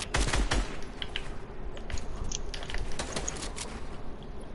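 Gunfire in a multiplayer video game: a quick burst of sharp shots at the start, then scattered fainter shots over a low background hum.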